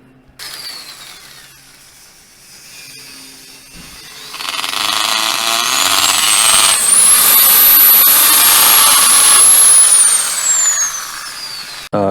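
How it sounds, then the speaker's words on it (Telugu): A loud, sustained high-pitched whine of a power drill drilling holes on a terrace garden, running steadily for several seconds, with a rising tone near the start and no talking. "ఆ మార్కింగ్లు బట్టి డ్రిల్లింగ్ అయిపోతుంది"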